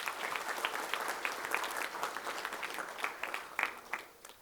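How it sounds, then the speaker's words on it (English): Audience clapping at a white coat ceremony in a hall, a moderate round of many hands applauding steadily before tapering off, heard from a short distance. "Give a round of applause"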